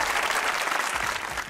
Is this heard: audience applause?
yes